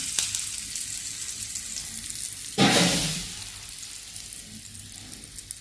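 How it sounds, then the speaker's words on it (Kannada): Steady hot-oil sizzle throughout, with a sudden loud crackling burst midway as tempering spices hit the pan for chutney, then settling back to a quieter fry. "ಇದಕ್ಕೆ ಒಗ್ಗರಣೆ ಮಾಡ್ಕೊಂಬಿಡೋಣ್ರಿ."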